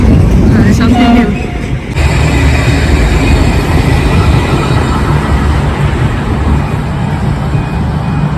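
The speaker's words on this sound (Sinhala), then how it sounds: "මේ කෝච්චි දුවන්නේ තනිකරම කරන්ට් එකේ" An electric train runs through Melbourne with a loud, steady rumble of wheels and motors that fills the whole stretch, dipping briefly near the two-second mark before carrying on close by.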